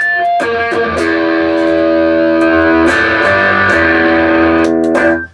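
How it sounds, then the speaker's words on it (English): Electric guitar played through a Fender Pugilist distortion pedal, chugging sustained distorted chords with a few lead-style notes, loud and close, ringing out alone before a sudden stop. "That's a look at the Fender Pugilist Distortion."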